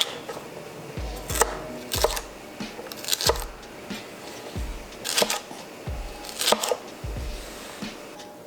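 A knife cuts vegetables into bite-size cubes on a cutting board, giving about a dozen close, crisp chops in an uneven, steady rhythm, each one a short thud with a light click.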